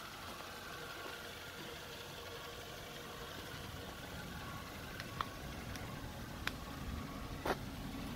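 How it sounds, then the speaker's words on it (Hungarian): A Suzuki Swift 1.2 GLX engine idles quietly and steadily with a low, even hum, broken only by a few faint ticks; no voices are heard. "Mindenhol megfelelő folyadékszinteket látunk, és nagyon szépen csendesen üzemel az autó."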